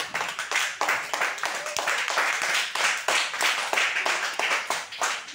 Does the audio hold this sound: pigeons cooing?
no